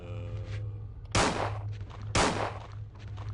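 Two sharp, loud gunshots about a second apart in Resident Evil 2, each a crisp crack with a short decaying tail over a low steady in-game hum.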